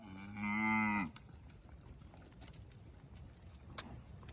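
A single long, loud moo from one of the cows on a cattle drive rings out nearby and fades after about a second, leaving quiet outdoor rumble and a faint distant clatter.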